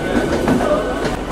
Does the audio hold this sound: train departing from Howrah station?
yes